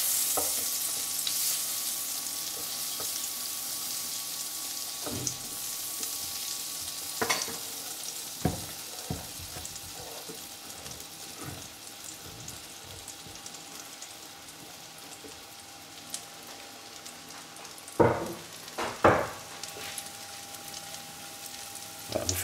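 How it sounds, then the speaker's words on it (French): Croutons frying in 40 g of butter in a pan, a steady soft sizzle with occasional sharper clicks and scrapes of stirring, close by with no talking. "faites dorer les croûtons dans le beurre"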